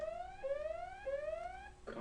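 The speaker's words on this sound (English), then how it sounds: "sorry about that alarm." An electronic alarm beeps in repeated rising chirps, three or four in a row at a steady pace, fairly faint, ending with a brief clatter.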